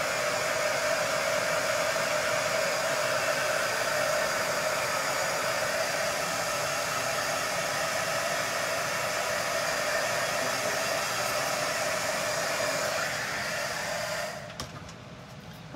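A hair dryer blows steadily and loudly, close up, drying paint on a glow-in-the-dark skeleton craft, a continuous airy roar that cuts off near the end.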